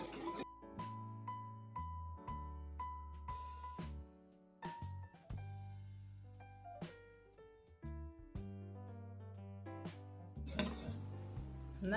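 Metal spoon clinking repeatedly against a bowl while stirring warm kefir cake batter with soda, a steady rhythm of bright close chinks and scrapes, with no talking.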